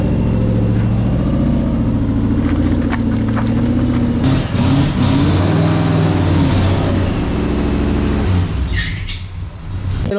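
A Toyota 2JZ engine in a Nissan S13 runs on a dyno with a loud, close idle that rises into throttle blips and revs, then drops back.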